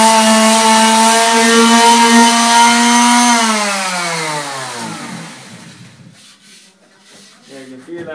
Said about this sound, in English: Literally, then the last thing you do then is sand the hurley.